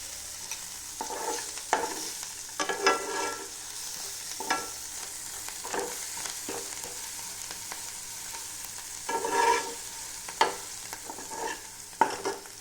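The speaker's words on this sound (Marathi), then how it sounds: "आता त्याच्यामध्ये आपण थोडंसं तेल टाकते." Oil sizzles steadily in a pan while vangyache bharit, a mashed roasted eggplant dish, is cooked, with a soft continuous hiss and intermittent scraping stirs of a spoon, close and moderate, with no talking.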